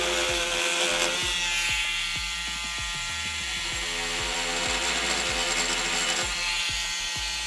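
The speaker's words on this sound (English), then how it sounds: "And this really is what the multi-tool is designed to do. Now that's on the lowest speed." Oscillating multi-tool buzzing at its lowest speed while trimming, a steady close vibrating drone with rapid irregular ticks of the blade catching the material.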